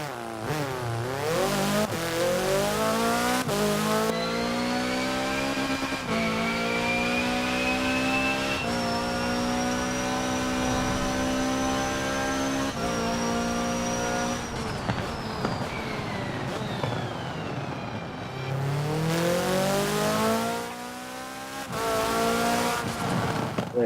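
The 2017 Hoonigan Gymkhana 10 Ford Fiesta ST in Forza Horizon 4 revs hard with a raspy rally-car engine, rising and falling through gear changes with brief tire squeal, loud and continuous without talking.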